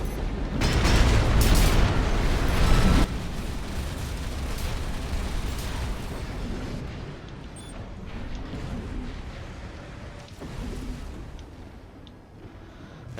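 Heavy gunfire and booming explosions in Armored Core VI, a loud rumbling barrage up front that eases into ongoing mechanical clatter and scattered distant blasts with no voices.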